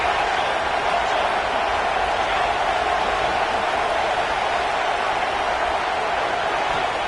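A stadium crowd at an American football game roars in a steady, dense wash of noise that holds constant throughout, broad and loud with no breaks, with no clear individual voices standing out.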